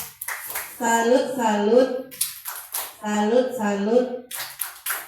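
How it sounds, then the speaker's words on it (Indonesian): A classroom group performs a tepuk salut clapping chant, with voices chanting in unison in two phrases, punctuated by sharp bursts of rhythmic hand claps at the start, middle and end. "Kasih lagi tepuk salut."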